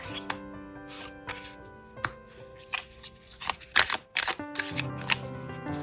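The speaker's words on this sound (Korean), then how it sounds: "카드를 먼저 뽑아보도록 할게요" Tarot cards being shuffled and drawn for a romance reading: a run of soft, quick riffling and tapping card sounds, close and clear, set against steady background music with no talking.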